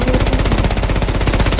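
Dense rapid gunfire from a shooting video game fills the clip, a continuous loud burst of automatic shots with steady rhythm and no pause.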